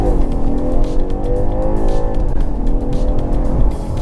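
BMW 530e plug-in hybrid sedan accelerating hard in extra boost mode, a loud steady engine roar with rising harmonic tones as it pulls through the gears, close and continuous with no talk.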